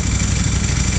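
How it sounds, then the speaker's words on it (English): A Ducati Panigale V4R motorcycle at idle with the clutch lever engaged, its engine giving a steady, close, loud rumble with a fine rattling chatter running through it for about a second. "when you engage the clutch lever, it makes a chatter"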